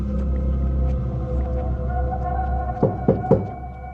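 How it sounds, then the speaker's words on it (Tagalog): A horror-story sound effect of harsh, repeated knocking on a door: three heavy thuds land in quick succession near the end, preceded by a low rumbling drone. "narinig ko na ang sunod-sunod na katok na mas marahas ngayon kesa nung nakaraan"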